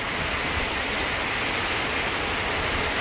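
A downpour and windstorm lashes a village in Chiang Kham, Phayao, Thailand, where banana trees are breaking: a constant, loud wash of rain hiss with wind, unbroken and close.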